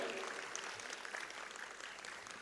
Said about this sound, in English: A big round of applause for the traditional dancers from the Mahmari indigenous tribe.